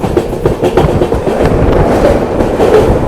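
An Amrit Bharat Express on the Sealdah to Banaras run passes Dakshineswar railway station: a loud, continuous rumble of wheels with rhythmic clickety-clack beats, heard from on board, no talking.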